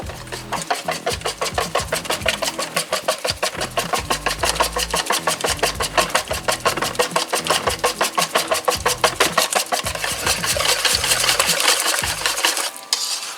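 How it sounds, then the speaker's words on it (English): A whisk beats vegetable oil into cornbread batter in a bowl, fast rhythmic clacking and sloshing strokes repeating steadily for over ten seconds, loud and close with no talking. "Now I'm going to put this vegetable oil in there. And I'm going to give that a good whisking."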